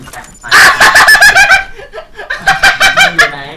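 A Contract Wars weapon fires in a burst of clucking, chicken-like squawks: loud, close, rhythmic pulses in two runs separated by a brief lull.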